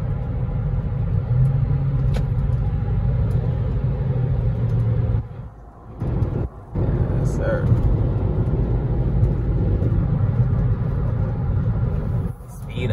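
A Nissan Altima Coupe runs along an open road, its steady low engine and road rumble continuous throughout, with a brief dip midway and someone talking over the drive.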